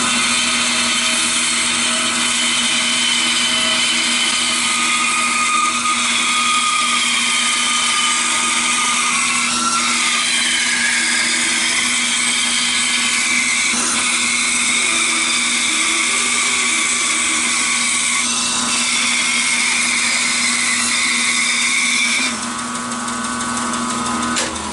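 A power tool cuts an oak bowl blank with a loud, continuous high-pitched whine and grinding close by, its pitch shifting slightly as the cut progresses before easing off near the end.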